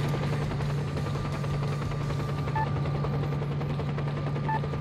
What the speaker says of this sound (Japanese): あのヘリなんとかできんのかな。